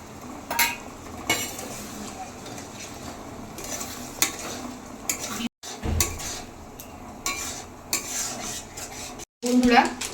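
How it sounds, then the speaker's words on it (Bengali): A spatula stirs and scrapes masala frying in a pan for a Punjabi-style kala chana curry, with intermittent metallic scrapes and clinks over a low sizzle and a couple of brief pauses. "আর একটু কষবো। মশলা খুব সুন্দরভাবে কষে গেছে।"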